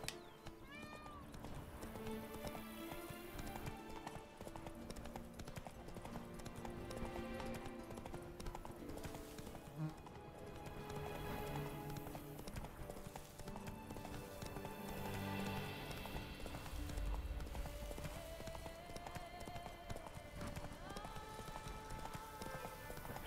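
The horse Roach gallops in Witcher 3, a faint, steady clip-clop of hooves running beneath dense game music and ambience, with no talking.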